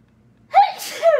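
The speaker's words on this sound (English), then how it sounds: "this burlap makes me sneeze" A single sharp sneeze from burlap dust rises from near silence, with a breathy intake then an explosive burst and a trailing vocal tail, close and fairly loud.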